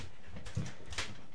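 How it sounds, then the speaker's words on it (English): A dog whimpers and pants upstairs in an old abandoned Japanese house, with soft, intermittent whines and breaths at close range over a quiet room. "Bad dog."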